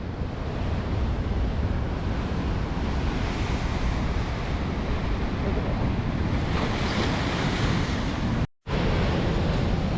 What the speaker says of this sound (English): These are some of the biggest waves to strike here since I've stood here.